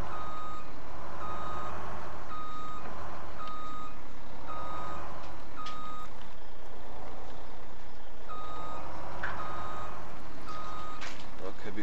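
Evenly spaced reversing beeps from a truck backing in within Farming Simulator 17, repeating steadily over a loud engine rumble with a hiss of air brakes, and a voice talking intermittently.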